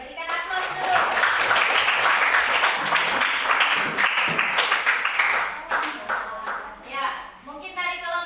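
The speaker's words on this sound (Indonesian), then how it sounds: "Oke, berikan aplaus dulu." A classroom audience applauds a presenting student group with a burst of many hands clapping steadily for several seconds, with voices chattering underneath, before the clapping thins out.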